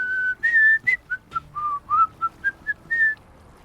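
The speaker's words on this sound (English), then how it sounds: "I think the whistling is part of it." Melodic whistling in the Morrowind video game, a series of short clear whistled notes and slides in a quick irregular tune, close and prominent with no other sounds.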